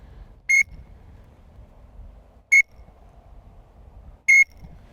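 A green-winged teal duck whistle with a roller ball inside gives three short, sharp trilled peeps, evenly spaced about two seconds apart, each loud and close against faint low background rumble.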